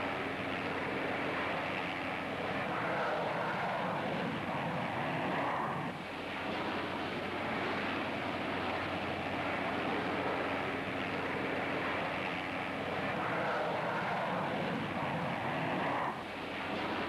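Harrier AV-8 jump jet landing on an aircraft carrier, a continuous roaring jet whine that holds steady with slight swells, heard alone.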